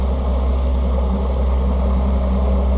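A Tracker Targa V18 boat's outboard engine idles at about 1500 RPM, giving a steady, loud, low droning rumble with no break and no talk.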